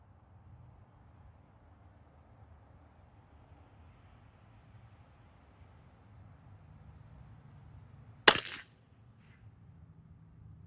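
A single sharp rifle shot from a custom Turbo v2 rifle cracks once about eight seconds in, with a short tail, against a long stretch of faint outdoor wind and low rumble.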